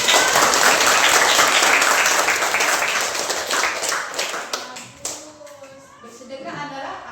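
Schoolchildren in an elementary classroom clap loudly for a classmate in a quick, dense round that fades after about five seconds, leaving scattered taps, shuffling and children's voices.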